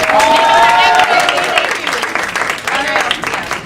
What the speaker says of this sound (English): All right, applause for Will and Ryan, everybody.